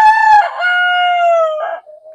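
A Bresse rooster crows loudly and close by on a farm, one long drawn-out cock-a-doodle-doo, with a brief cluck at the end.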